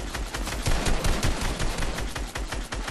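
Dense, loud rapid gunfire from the Fortnite video game crackles in fast repeated bursts throughout, with no speech over it.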